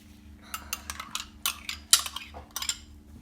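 A metal spoon clinks and scrapes against a bowl while yogurt is added for a chicken marinade, a series of sharp, irregular taps and rattles close by, with a low steady hum underneath.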